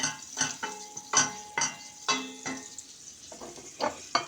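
Cooking oil added to a pan while making rice pilaf, with repeated bursts of sizzling and frying as food is stirred, each crackling surge fading between strokes, close and moderately loud, no voices.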